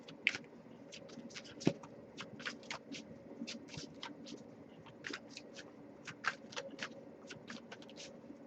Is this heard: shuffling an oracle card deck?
yes